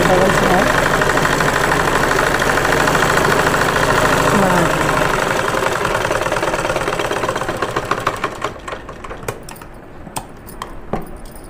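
Running a double line of stitching on a baby frock, a sewing machine hums in a steady rapid chatter, then slows into a few uneven clicks and taps as it winds down near the end.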